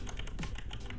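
Rapid typing on a computer keyboard, with a dense run of close, even key taps filling the whole second over steady background noise.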